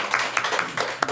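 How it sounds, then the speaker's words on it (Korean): A church congregation claps together for a short burst, several brisk rounds of hand claps rising and falling close by, with no talking. "주님께 우리 영광의 박수 드리겠습니다."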